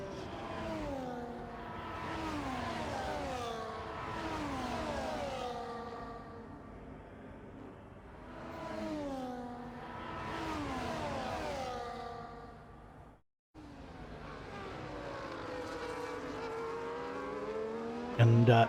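Race cars in a sim racing game at the Netherlands circuit roar past in repeated rising and falling engine sweeps, with a brief cut of silence before another car passes close and loud.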